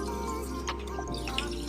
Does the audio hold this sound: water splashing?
yes